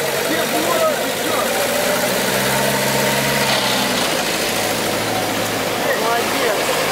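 A UAZ off-road vehicle crossing a ford without a snorkel, engine running steadily at a low idle-like rumble with vibration, nearby and moderately loud, with people talking over it.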